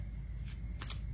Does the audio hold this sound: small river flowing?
no